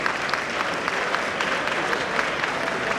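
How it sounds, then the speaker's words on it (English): Steady applause from an audience welcoming a guest, the CEO of Telecel, at a KNUST anniversary celebration; dense, even clapping fills the moment without pause, moderately loud and fairly close. "Please applaud Ms. Patricia Obunai."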